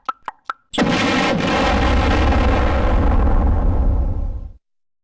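A cartoonish bomb explosion sound effect booms loudly after a few short sharp pops, then a thick, rumbling blast that holds for several seconds before cutting off abruptly into silence.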